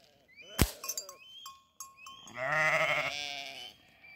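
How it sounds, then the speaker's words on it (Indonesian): Goats bleating at night on a walk outdoors, several wavering calls in quick succession followed by one longer, louder bleat, fairly close, with a faint clink early on and no talking. "banyak tuh mbeknya tuh kelihatan nggak"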